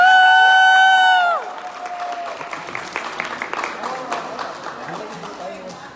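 An audience greets a creator introduced on stage with a loud held whoop, then a steady stretch of close, dense clapping mixed with scattered cheers that slowly fades.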